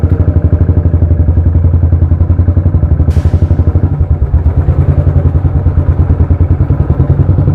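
A motorcycle rides along a narrow lane in Kapurthala, its engine thrumming steadily and loud up close throughout, with a brief clattering bump partway through.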